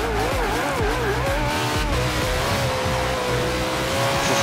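A car in the racing game Forza Horizon 2 braking hard, its tires squealing and skidding in wavering tones over a steady, loud engine roar that runs throughout.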